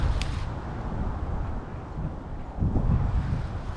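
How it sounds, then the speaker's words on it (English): Wind gusts outdoors on a homestead, a steady low roaring rumble against the microphone that swells louder near the end, with no voices. "You can see the wind kind of blowing."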